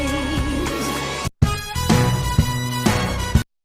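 A song playing from its very beginning, a loud dense music track that breaks into a short silence after about a second, resumes, then cuts off abruptly before the end.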